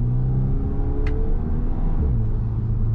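A Fiat Fastback Abarth engine in Poison sport mode accelerates, giving a loud, close, continuous rumbling drone with the revs climbing. There is no speech.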